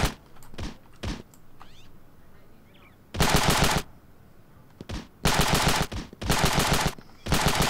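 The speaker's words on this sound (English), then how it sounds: "Why are you shooting so far?" Gunfire in the video game Ravenfield: a few scattered single shots, then several long, loud bursts of automatic fire with quiet gaps between them.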